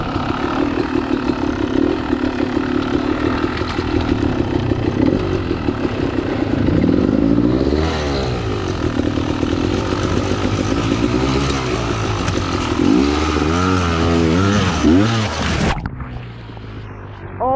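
Revving trials motorcycle engines rumble and whine continuously, rising and falling in pitch as bikes work over rough ground at an enduro park in Wales, loud and close, cutting off near the end.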